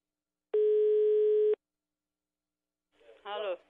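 A single steady ringback tone lasts about a second as a telephone call is placed. Silence follows, then a short burst of a voice on the line.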